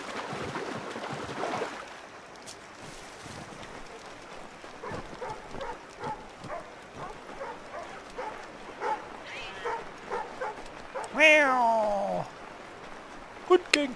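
A cat meows during a dog-versus-cat encounter in Assassin's Creed III Remastered. Scattered yelps and whimpers lead up to a loud, drawn-out, falling meow near the end.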